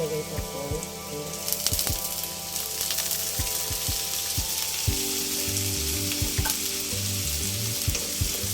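Onion fries in a pan for shrimp fried rice, giving a loud, continuous sizzle with scattered crackles. Sharp clicks of stirring break through now and then.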